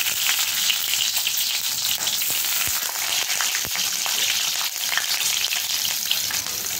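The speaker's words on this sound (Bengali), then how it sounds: "সরষা তেল দিয়ে কয়েক মিনিট ওয়েট করছি তেলটা ভালো করে যাতে গরম হয়ে যায়। এরপরে ডিমগুলোকে দিয়ে দিচ্ছি।" Eggs crackle and spit in hot mustard oil, a loud, dense, continuous sizzle with occasional sharp pops and spatters; no voices.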